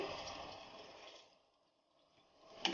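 Half a cup of water is poured into a pan with ghee while making gourd and lentil dal, a faint liquid splash and sizzle that fades away and ends with a small clink.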